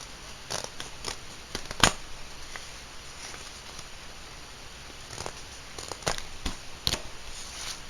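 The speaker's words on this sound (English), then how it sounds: "While it's still folded, we're going to cut through." Scissors snip through folded paper in a quiet indoor setting, producing a scattered series of short, crisp cuts and rustles with pauses between them.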